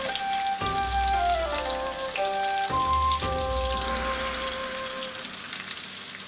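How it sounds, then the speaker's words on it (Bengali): Potatoes frying in oil in a pan, a close, continuous crackling sizzle with a low steady hiss and no talking. "আলুটা একটু ভাজা হয়ে যাক"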